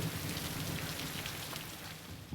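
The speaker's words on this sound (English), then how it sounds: "More thunder." Rain in a film scene, a steady, dense hiss of falling rain throughout, with a faint low rumble at the start that may be thunder and no talk.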